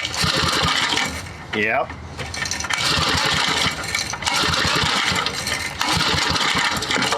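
A Briggs 5hp horizontal flat head engine that backfires and is hard to start, cranked with a pull and catching into a loud rough running clatter, with a short dip and a person briefly speaking over it.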